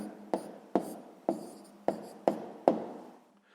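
Pen strokes on paper during a sixth-grade maths exercise on repeating decimals, six crisp separate scratches spaced about half a second apart, close and moderately loud in a quiet room.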